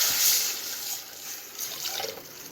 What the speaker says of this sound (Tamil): ஒரு அரை அரை லிட்டர் அளவுக்கு தண்ணி சேர்த்துக்கிறோம்